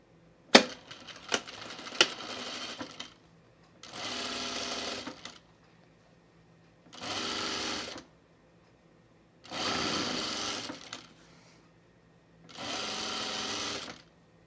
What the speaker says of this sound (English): we're gonna sew these right sides together